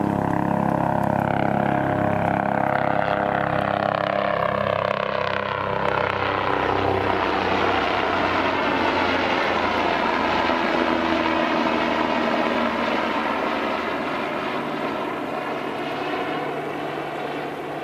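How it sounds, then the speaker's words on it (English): Helicopters passing overhead in remote wilderness beside the Koyukuk River north of the Arctic Circle in Alaska, a steady loud engine and rotor drone that slowly fades as they move away, with no talking. "Helicopters going over."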